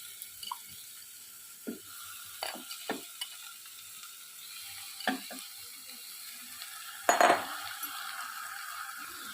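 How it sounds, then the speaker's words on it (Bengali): Chicken and vegetables for a chicken stew being turned in a pan, a quiet background hiss broken by sparse scrapes and clicks of a spoon, with one sharper clatter near the end. "এই সময় আমি নাড়াচাড়া করব এবার আমি চিকেনটা এতে দিয়ে দেবো"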